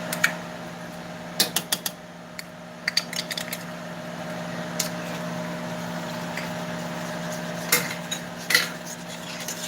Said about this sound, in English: Stir it around real good.